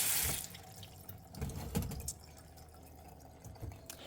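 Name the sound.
rinsing potatoes under running tap water in sink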